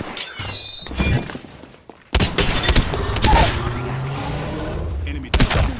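Rifle fire in a shooter video game cracks out in several sharp bursts over about six seconds, with impact thuds and breaking sounds between the shots, while a game voice speaks.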